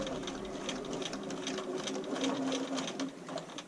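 A sewing machine backstitches back and forth along a bra seam, a steady close mechanical whirring with rapid needle ticking that holds for several seconds.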